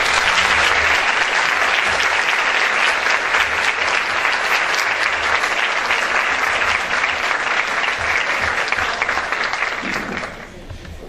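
An audience at an evening talk gives a long, dense round of applause, loud and sustained, thinning out near the end.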